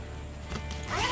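An RV zipper freshly rubbed with Snap Stick wax is pulled along, a soft close rasping slide that swells toward the end over low room noise.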